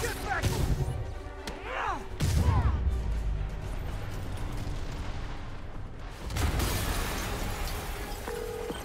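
Explosions and crashing impacts ring out during a Marvel's Spider-Man Remastered game scene, heavy bursts with rumbling debris around two and six seconds amid combat sounds and shouting voices.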